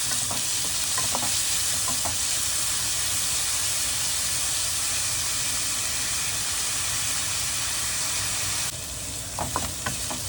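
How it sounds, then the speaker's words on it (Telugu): Onions frying in a pan until golden brown for homemade daddojanam give off a loud, steady sizzle that runs the whole time, with a few sharp clinks of stirring near the start and end. "ఆనియన్ కూడా వేగనిద్దామండి. కొంచెం గోల్డెన్ బ్రౌన్ షేడ్కి వచ్చే వరకు వేగనిద్దాం."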